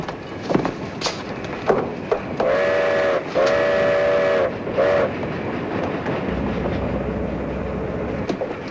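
A train running on rails in a 1941 film, steady rumble with clicks and three sustained whistle blasts in the middle, continuing as a constant rolling noise afterward.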